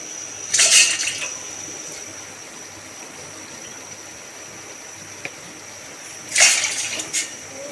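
Water poured from four small bowls into a pot, about to be warmed for semolina halwa, in two short splashing bursts separated by a long quiet stretch.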